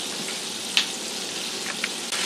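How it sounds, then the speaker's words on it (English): Chicken frying in a covered pan gives a steady, close sizzle throughout, with a few sharper pops and crackles scattered across it and no talking. "I actually put this temperature down to 4 because I can kind of judge the sizzle and get an idea"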